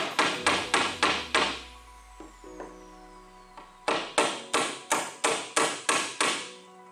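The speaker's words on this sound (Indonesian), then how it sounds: "Kemudian bisa dipalu hingga dia menempel." Wooden Jacob's staff being hammered as a part is fixed onto it: two bursts of sharp, rapid, evenly spaced blows, close and loud, with a quiet ringing pause between the runs.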